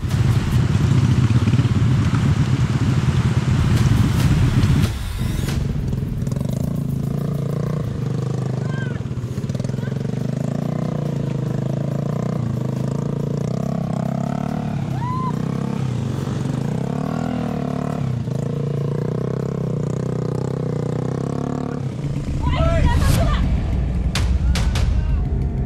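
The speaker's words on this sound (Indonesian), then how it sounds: "Dengan kemiringan jalur hampir 60 derajat, motor sudah tidak kuat lagi menanjak." Motorcycle engine labouring on a steep, nearly 60-degree muddy jungle trail, a loud continuous drone that strains and revs throughout, with a louder burst near the end.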